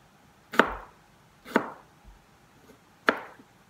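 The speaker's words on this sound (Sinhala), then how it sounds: "ගොඩක් පුළුවන් තරම් හීනියට කුවක්ක ගෙඩිය කපන්න ඕනේ" Three crisp knife chops on a board, close and isolated with pauses between them, as ivy gourd (kowakka) is thinly sliced in a quiet kitchen.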